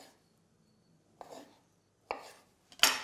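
A knife cuts avocado flesh into slices on a board, three separate crisp cuts growing louder, spaced about a second apart in a quiet kitchen.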